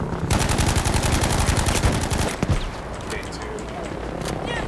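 Rapid automatic gunfire in a first-person shooter video game, a loud fast burst of close shots that stops after a few seconds into a noisy rumbling wash.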